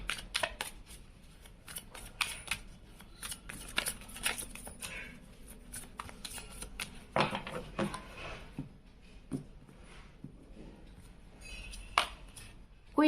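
Tarot cards shuffled by hand during a Hindi-language reading, a steady run of soft, papery riffling clicks and slaps repeating over about thirteen seconds, close and fairly quiet with no talking.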